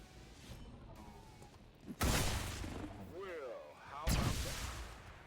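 Gunfire from XCOM 2 Long War of the Chosen: two loud, booming shot impacts about two seconds apart, each with a rumbling tail, amid game effects and a speaking voice.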